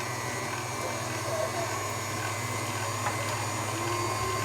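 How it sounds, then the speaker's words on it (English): KitchenAid stand mixer with a grinding attachment grinding meat, a steady droning motor hum throughout, close and continuous with faint background sounds. "We're using our KitchenAid mixer with our grinding attachment, and we're gonna put it on number 4."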